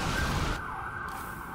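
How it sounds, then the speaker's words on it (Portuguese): An ambulance siren sounds outside during a StarCraft 2 co-op game session, a steady loud tone that dips partway through as the vehicle passes, heard alone without talk. "tá passando aqui uma ambulância aqui"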